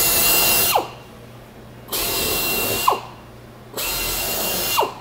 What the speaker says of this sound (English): Drill all your holes.